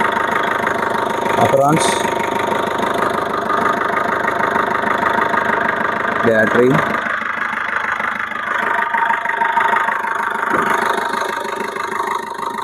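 A 2016 Maruti Suzuki Swift Dzire VDI diesel engine idles steadily throughout, a continuous mid-low rumble close by, with someone talking over it in bursts.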